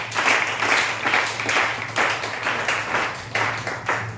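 A church congregation clapping in unison to acclaim the Lord, a steady rhythmic beat of many hands filling the room, fairly loud and continuous with little talk.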